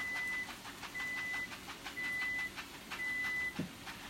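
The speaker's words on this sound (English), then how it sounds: "That's our chicken timer." Kitchen timer shaped like a chicken beeping in four evenly spaced half-second tones over steady background noise in a home kitchen.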